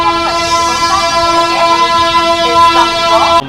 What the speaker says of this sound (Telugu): సో మన ట్రైన్ వచ్చేసి సికింద్రాబాద్ జంక్షన్కి ప్లాట్ఫామ్ 10కి అయితే వచ్చింది